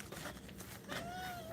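Several pet cats meow faintly indoors. One drawn-out rising meow stands out over a noisy, rustling background with footsteps.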